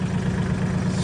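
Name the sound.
Mahindra tractor engine idling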